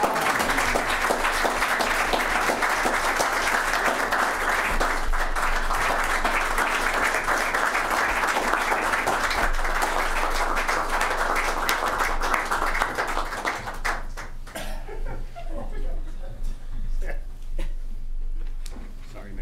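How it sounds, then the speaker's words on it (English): An audience at a Hamilton city council meeting applauds with sustained, dense clapping for about thirteen seconds. It then tapers off as voices take over. "A round of applause"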